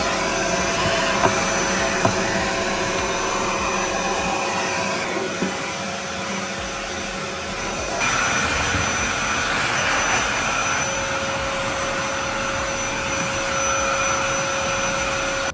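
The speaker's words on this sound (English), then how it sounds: "now I'm just gonna get in here and vacuum all the sawdust out" A vacuum cleaner sucking up sawdust runs continuously with a loud, steady whirring roar, its tone shifting partway through as the suction changes.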